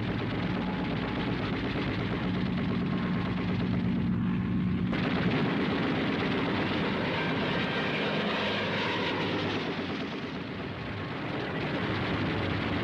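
A P-40 fighter aircraft flies with a steady, loud, continuous engine roar and a dense broadband drone that holds throughout, with a brief shift in tone partway through and no voices.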